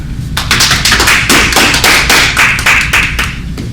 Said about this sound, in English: please help me welcome with a round of applause